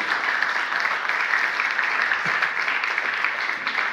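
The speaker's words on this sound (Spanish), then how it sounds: "Dale un aplauso fuerte al Señor Jesús" A church congregation claps steadily in a dense, sustained wash of applause, loud and even throughout.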